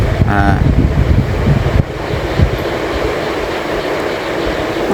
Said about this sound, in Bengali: জহিরুল বলতেছে যে খুব সুন্দর বাতাস বইতেছে